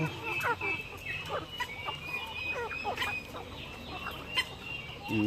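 Scattered turkey calls and gobbling chatter from several birds over a steady outdoor hum, with short bursts repeating irregularly at moderate distance.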